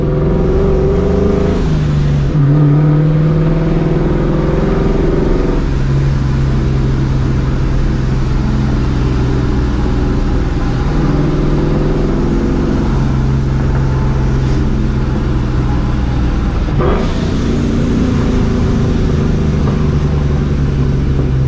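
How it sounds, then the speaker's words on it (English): A supercharged New Edge Mustang GT revs from inside the cabin, its engine note rising and falling through gear changes with a steady drone and a couple of sharp exhaust pops, loud and close. "Exhaust pops like every downshift too."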